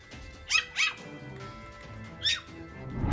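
A small Pomeranian dog yaps sharply a few times, two quick barks followed by a third after a pause, fairly close.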